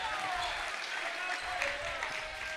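Crowd noise at a high school basketball game, a broad steady roar of cheering and clapping that holds throughout, with faint shoe squeaks or whistles rising above it.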